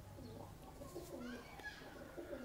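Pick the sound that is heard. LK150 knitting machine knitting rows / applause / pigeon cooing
pigeon cooing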